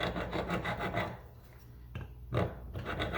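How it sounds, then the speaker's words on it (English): A straight metal file rasps back and forth across the lugs of a Springfield Hellcat OSP pistol slide, giving a close, steady series of rough strokes with a brief pause partway through. "all I'm going to do here is just to use a straight metal file"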